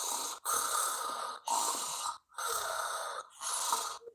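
A person imitates a snore with four long, raspy breathy strokes separated by short pauses, rhythmic and close to the microphone, with no talking.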